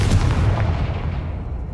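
A Confringo blasting curse explodes in the Hogwarts Legacy video game: a loud, booming blast that rumbles heavily and fades over a second or two, with no voices.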